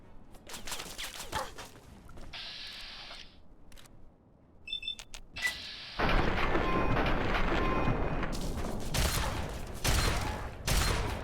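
Gunfire crackles in Fallout 3, with scattered shots early, a few electronic beeps, then sustained heavy rapid bursts of loud shooting filling the second half.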